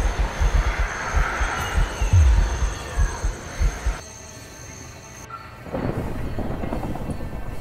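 A heavy, rumbling train in the Minecraft Create mod rolls along with low thumping clatter, then the sound shifts to a steadier, brighter rush of motion toward the end.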